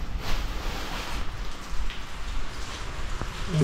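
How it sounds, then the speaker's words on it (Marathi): Steady rain falls in calm weather with no thunder, an even, close hiss of drops pattering on surfaces throughout, with no voices. "शांत वातावरण, पाऊस पडतोय, गडगडत नाही"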